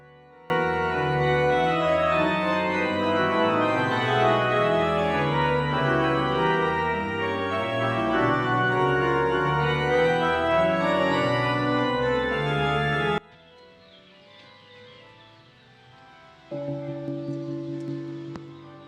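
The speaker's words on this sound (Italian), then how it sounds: "Questo è il suono della campana maggiore del concerto di Traso" The largest bronze bell of the Traso church peal, tuned to D3, rings with a dense, sustained metallic hum and overtones for about thirteen seconds, then fades to quiet before another tonal strike rises near the end.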